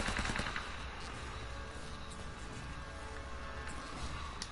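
Gunfire rattles through a firefight in Uncharted: Drake's Fortune, with sharp sniper rifle shots cracking over a dense wash of automatic fire, loud and sustained with several distinct bursts.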